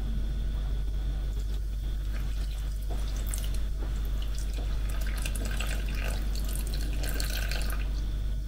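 Lukewarm water poured into a Thermomix bowl for bread dough, a continuous close trickle and splash over a strong steady low hum, growing a bit brighter toward the end.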